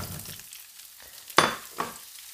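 Onions dropped into a pan of hot bacon fat, a faint hiss followed by a couple of sharp clattering stir strokes, close and without talk.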